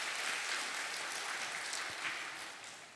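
A church congregation at a mothers' prayer meeting claps in thanks to God, a full, steady round of applause that fades slightly toward the end.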